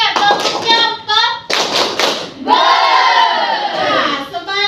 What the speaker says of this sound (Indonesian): Tepuk jempol untuk kelompok 3.